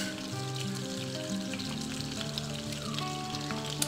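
Butter melting with a bay leaf in a pan for restaurant-style dal makhani sizzles and fries steadily and loudly throughout, a dense crackling hiss with no voices.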